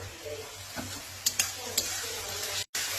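A few soft scrapes and light clinks of stirring green-chilli mustard paste in a frying pan, over a low, steady sizzle, close by.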